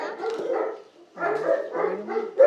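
A dog at a veterinary visit gives a run of close, loud barks and yips, with whiny, whimpering tones between them and a brief pause in the middle.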